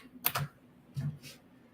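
A few quick clicks of keys on a computer keyboard, two short soft bursts of typing, close and quiet.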